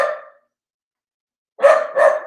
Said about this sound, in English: She's barking at me now.